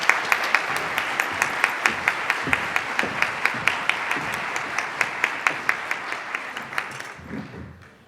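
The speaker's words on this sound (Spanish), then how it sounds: "Les pido un gran aplauso para el doctor Salvador Moreno López." An audience at a psychotherapy lecture applauds a doctor being introduced, with clear, evenly paced rhythmic clapping sustained for several seconds before it thins out and fades.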